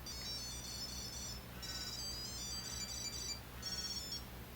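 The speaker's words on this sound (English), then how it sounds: "you can turn on the tile, and it will ring for you" Tile tracker ringing after being triggered from a cell phone, a high electronic melody played in three repeated bursts with short gaps, faint over steady background hiss.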